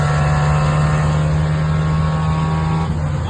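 A second-generation Toyota 4Runner engine held at half throttle, giving a steady, continuous drone with a strong low hum that stays level throughout, close and loud with no talking.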